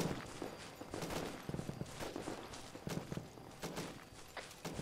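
Scattered gunfire from a military shooter game, a mix of single shots and short bursts at varying distances, crackling steadily throughout over a busy background.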